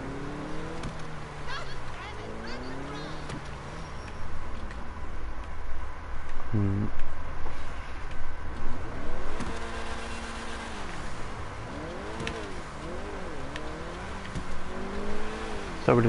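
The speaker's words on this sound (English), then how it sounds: "this is the in-game version of Christie Brinkley's car from the movie Vacation" A red Ferrari in a video game drives along, its engine rising and falling through repeated revs and gear changes. It stays steady and fairly loud for the whole stretch, and a voice talks over the car.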